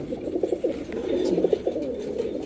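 A female China khaki pigeon coos close by, giving a run of soft, rolling, throaty coos that repeat in a steady rhythm over a couple of seconds.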